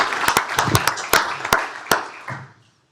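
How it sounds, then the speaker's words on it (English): A county commissioners court audience gives a round of applause for an employee's 25 years of service, loud claps that gradually taper off to silence. "Let's give him a round of applause"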